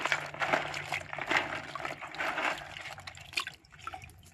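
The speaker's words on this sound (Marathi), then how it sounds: "सगळं आता एकत्र करून स्वच्छ 3 ते 4 पाण्याने चांगलं स्वच्छ धुवून काढले." Cleaned crabs being rinsed in water, with splashing, sloshing and dripping close by as the shells are swirled and rubbed, rising and falling in short bursts.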